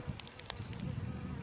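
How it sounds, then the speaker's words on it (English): A march fly buzzes close by in a yard, a continuous insect drone with a few sharper flutters as it circles near the listener. "there's a march fly buzzing around trying to bite me"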